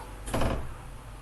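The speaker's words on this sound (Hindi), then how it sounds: "दरवाज़ा बंद करो" A door closes with a single brief, muffled thud and swish, followed by quiet room ambience.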